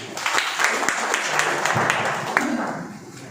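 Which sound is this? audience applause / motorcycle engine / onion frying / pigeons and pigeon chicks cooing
audience applause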